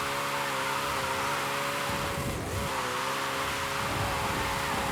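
A steady, buzzing drift car engine in the video game Forza Horizon 5 drones on, its pitch swelling briefly in the middle as it revs, with a faint hiss underneath.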